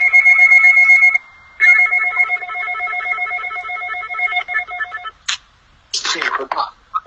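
A phone ringtone plays loudly and close in repeated bursts with a short gap, then cuts off, followed by brief voices talking.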